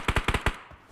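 Rapid gunfire in PUBG Mobile during a tournament match: five quick, punchy shots in a tight burst, loud and close, followed by a fainter trailing report.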